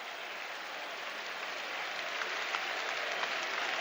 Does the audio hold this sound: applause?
yes